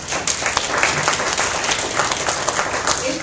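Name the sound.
audience applause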